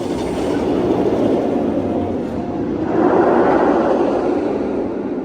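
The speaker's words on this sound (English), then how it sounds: "They released the train. There they go at slower speeds." A roller coaster train at Six Flags Magic Mountain rolls slowly along the track with a continuous rolling roar, swelling slightly louder partway through, with no voices.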